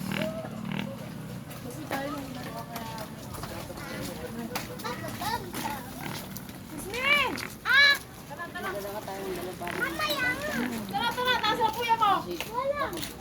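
Children playing outdoors beside railway tracks in a lit neighbourhood at night, their high voices and shouts rising and falling continuously, with a brief louder shriek midway over a steady background hum.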